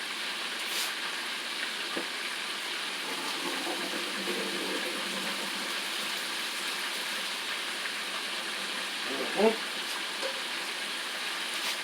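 Pasta water pours into a kitchen sink, a steady hissing, splashing gush that runs without a break, with a short clunk near the end.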